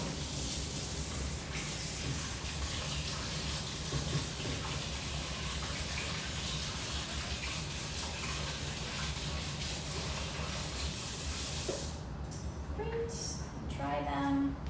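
Kitchen tap water runs in a soft, continuous hiss as items are rinsed, then stops near the end, followed by brief talk.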